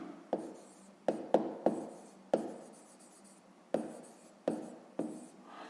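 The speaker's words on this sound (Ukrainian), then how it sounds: "Записуємо А мінус Б" A marker or pen writing a maths expression for a 5th-grade exercise, a series of sharp taps and short strokes, close and distinct, spaced irregularly with quiet gaps.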